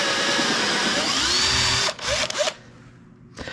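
A cordless drill cuts a mortise in wood, whining loud and steady for almost two seconds, then stopping and restarting in short bursts before going quiet.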